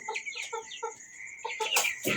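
Several hens on a balcony farm cluck close by in short repeated bursts, with a few sharper squawks toward the end.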